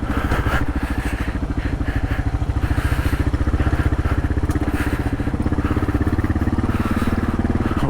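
A Kawasaki KLR650 motorcycle rides off-road, its single-cylinder engine thumping steadily and loud up close, with clatter and thuds from the suspension bottoming out over rough ground.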